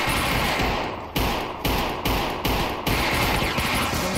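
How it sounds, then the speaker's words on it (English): Gunfire in the VR shooter Gunman Trials 2 rings out as a loud, dense volley of sharp shots, with several strong blasts spaced roughly half a second apart over a constant roar of game noise. "I'm just gonna pull my gun and shoot these guys."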